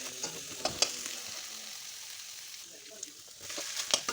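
Finely chopped coriander sautés in a pan, a close sizzle broken by scraping stirs and a few sharp clinks, with no talking.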